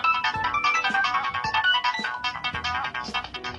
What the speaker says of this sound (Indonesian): Ini biasa nada dering yang suka ada di sinetron-sinetron gitu loh.